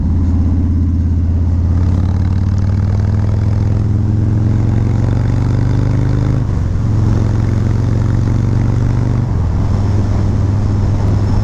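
A 2018 Harley-Davidson Fat Bob 114 engine on the move gives a loud, steady, deep rumble with wind noise. The pitch dips briefly twice as it shifts gears, and no one speaks.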